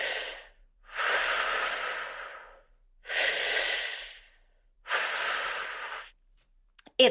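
Triactive breathwork: four long, loud breaths close by, each drawn in through the belly and chest and pushed out through the mouth, separated by short silent pauses.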